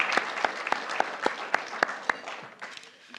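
Sustained applause from an audience at an award ceremony, many hands clapping steadily for about three seconds with a few sharper, louder claps standing out, fading slightly toward the end.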